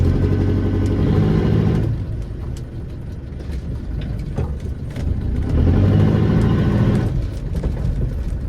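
A 1988 Land Rover 110 with a 300tdi diesel engine backing up, its engine rising into two close revving surges separated by a quieter idle, with no one talking.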